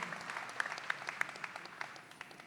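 Applause at the Gusi Peace Prize 2024 ceremony, a faint, distant patter of audience clapping with a few sharper individual claps standing out against the room.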